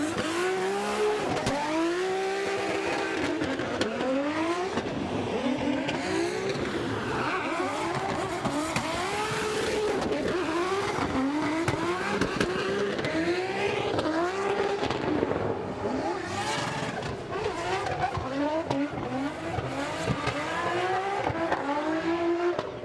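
Drift cars at a New Zealand Drift Championship round roar continuously on track, engines bouncing off the limiter in rapid, wavering revs with tire noise, loud and sustained with no talk.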